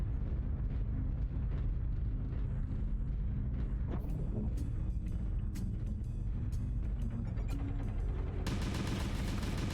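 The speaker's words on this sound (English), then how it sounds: "Artillery strike activated." Artillery strike explosions in the video game MechWarrior Online pound continuously in a dense, loud barrage of booms and crackling impacts, with sharper metallic bursts appearing toward the end and no voices heard.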